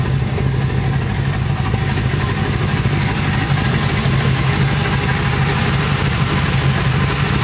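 A motorcycle engine with freshly finished suspension work idles steadily. It holds an even, continuous low rumble throughout with no revving, and no one speaks over it.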